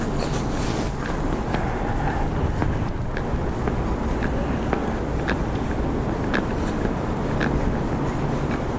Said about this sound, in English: Wind is getting slightly stronger.